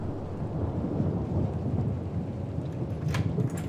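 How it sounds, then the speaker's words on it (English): Thunder rolls through a rainstorm in the video game Tell Me Why, a loud sustained low rumble over steady rain, with a brief sharper crack near the end. "Enjoy the thunder, I guess."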